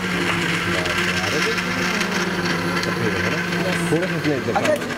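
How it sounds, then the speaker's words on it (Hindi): A kitchen blender whirs with a steady motor hum while blending grapefruit cream on a morning TV show set, running under continuous talk. "अब इसको ब्लेंड करेंगे।"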